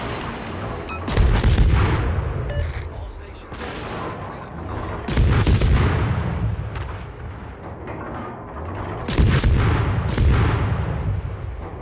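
Heavy naval guns fire in World of Warships, three loud booming salvos about four seconds apart, each one rolling and crackling as it fades into a continuous battle rumble.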